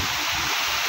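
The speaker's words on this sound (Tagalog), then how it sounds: "medyo malaking alon" Fairly large waves near floating cottages on the water, a loud steady wash of surf and splashing that fills the whole second without any voices.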